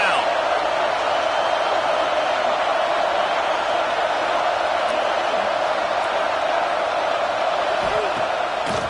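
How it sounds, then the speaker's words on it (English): Stadium crowd noise swells at an Alabama vs Arkansas football game as fans get loud on third down: a continuous, loud, broad roar with a faint voice in the mix. "Decibels rising as the crowd gets behind this defense on third down."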